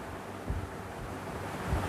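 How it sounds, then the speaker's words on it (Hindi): An electric ceiling fan, running on an old capacitor, spins at high speed, giving a steady, close rushing whoosh of moving air with faint low thumps. "देखते हैं कि हाई स्पीड में चलता है तो कैसी आवाज़ आती है पंखे की।"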